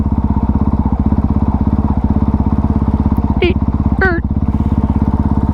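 A Honda CRF450RL dirt bike engine with a clutch needing adjustment runs at a steady rapid thumping rhythm, loud and close from the rider's position, with two short squeaky chirps near the end.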